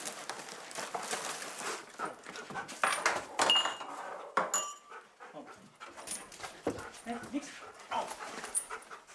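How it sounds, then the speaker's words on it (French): A Belgian Malinois police drug-detection dog searches during a search operation in Cambrai. It pants and snuffles in close irregular bursts, with scuffs and movement noises, and faint voices murmur in the background. "Dixon, le chien anti-drogue, se met au travail."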